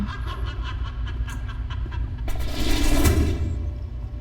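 An LRT light-rail train rolls past, a steady low rumble with a swelling rush of wheel and track noise building midway, fairly close and continuous.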